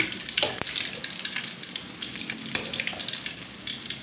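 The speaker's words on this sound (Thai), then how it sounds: "ตักออกใส่กระชอนแล้วก็ทอดใหม่" Thai fish cakes deep-frying in hot oil give a steady, close bubbling sizzle, with a few sharp clinks of a strainer or utensil early on and again near the end.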